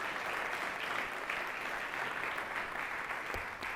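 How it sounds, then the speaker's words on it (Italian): A steady, moderately faint round of audience applause at a book presentation for the centenary of the ANA Treviso section, even and continuous throughout with no speech over it. "gli dedicherei insomma un applauso anche per lui"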